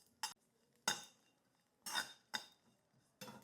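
A spatula scrapes and stirs sprouted sesame seeds roasting in a pan over low heat. A few separate, soft scraping strokes come at irregular intervals, faint and close.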